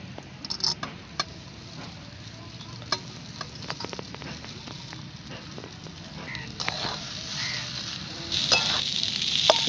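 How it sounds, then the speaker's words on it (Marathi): Potato pieces sautéing in a pan for a fasting thalipeeth recipe give a steady close sizzle with scattered crackles and pops, growing louder and brighter toward the end, with no talking. "दोन मिनिटं याला परतून घेणार आहे"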